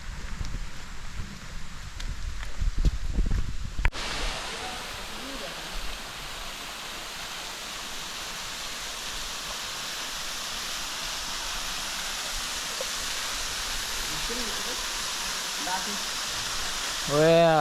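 The Air Turgeon Semporantangal waterfall on Sumbawa rushes in a steady, broad, moderately loud wash after a brief burst of handling noise, with light wind buffeting the microphone.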